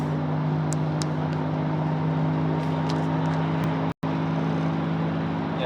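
Interior drone of a Mercedes ML320 W163 cruising at half throttle: a loud, even, low engine hum with a few faint clicks and one instant dropout. There is no speech.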